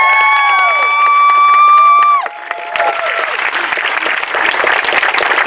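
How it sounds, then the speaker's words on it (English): A rally crowd in Medina, Ohio claps and cheers for law enforcement, loud sustained applause that swells after a fading tonal sound at the start. "give these guys a round of applause"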